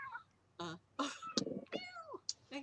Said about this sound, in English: My cat's meowing at me again.